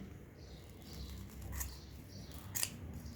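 Scissors snipping tangled hair off the brush roll of a Bosch Unlimited Series6 18V cordless stick vacuum, a few faint close crisp cuts, with one sharper snip near the end, no talk.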